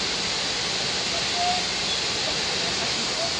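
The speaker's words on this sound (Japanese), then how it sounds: "とんでもない滝じゃん。" Otome Falls waterfall roaring as a dense, steady broadband rush of falling water, loud and constant from start to finish.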